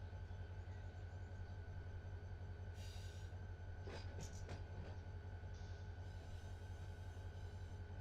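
Diesel locomotives idle in the Run8 Train Simulator game at a steel plant rail yard, a steady low engine drone with a few brief clanks and hisses partway through, no voices.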